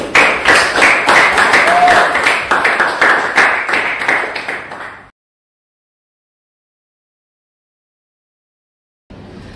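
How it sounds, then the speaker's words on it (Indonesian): A small class of students claps together for about five seconds, brisk and fairly close, then abrupt silence before faint classroom noise returns. "tepuk tangan untuk Justin."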